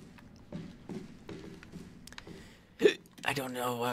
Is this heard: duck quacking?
no